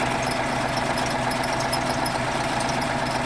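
A MAN 260 hp diesel engine fitted to a T-150 tractor idles, a loud, steady low rumble with a fast even knock and a constant mechanical hum, close and alone with no voices.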